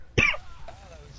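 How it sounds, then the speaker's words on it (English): A single short cough with throat clearing from a person, sharp and close at the start, followed by faint room quiet and light breathy sounds. "I was coughing."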